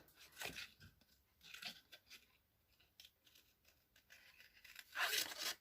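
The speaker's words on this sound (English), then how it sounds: "Nice sharp" A few quiet, close snips of scissors cutting paper, short crisp cuts spaced out with soft rustling in between.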